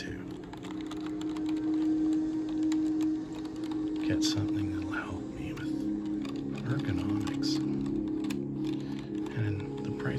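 Rapid clicking keystrokes of typing on a Logitech K350 keyboard run throughout, partly under someone talking over a steady low hum.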